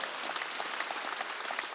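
A church congregation at a Wednesday worship service claps together, a busy, continuous patter of many hands, moderately distant and fairly quiet.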